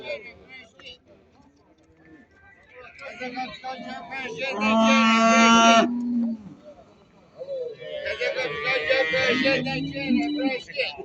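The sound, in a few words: cow mooing at a cattle market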